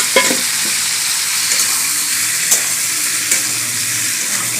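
Pointed gourd and potato pieces sizzle loudly in a pan beside frying fish, a steady close hiss broken by occasional scrapes and stirs of a spatula.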